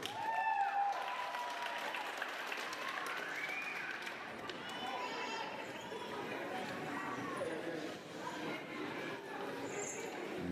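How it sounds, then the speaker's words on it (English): Sustained applause from a large audience at a university graduation ceremony, steady clapping for the full length with a brief dip near the end. "so another round of applause for her."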